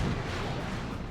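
Plasma cannon shot in the Dawn of War 2 strategy game, a dense, sustained roar of booming, rumbling blast noise filling the whole moment, loud and without any talk.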